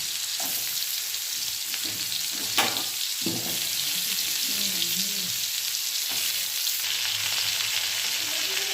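Ridge gourd and pumpkin frying in oil over a whole-cumin tempering, with a steady close sizzle throughout and occasional soft stirring scrapes, no voices.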